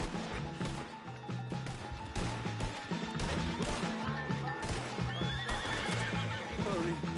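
A horse in the Red Dead Redemption 2 game whinnies loudly amid the steady clip-clop of hooves, with scattered crashes and knocks and brief voices mixed in.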